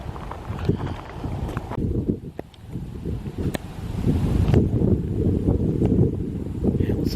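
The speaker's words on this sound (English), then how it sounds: "Listen to that wind." Dry wind gusting through pine woods during a drought, a steady broadband rush close to the microphone with buffeting swells and rustling, continuing without speech for several seconds.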